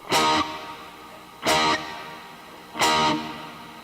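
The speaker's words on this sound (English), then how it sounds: "Now it's just reverb." An instrument is played with only reverb during a live gear show: three separate strums spaced about 1.3 seconds apart, each loud at first and then fading into a reverberant tail, with no voices.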